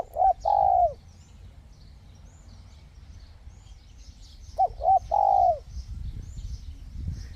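A decoy dove calls outdoors in two separate bouts of clear, cooing notes, each a quick pair followed by a longer coo, set against faint wind and background rustle.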